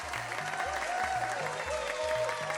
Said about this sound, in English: A lovely round of applause for our Patreon members.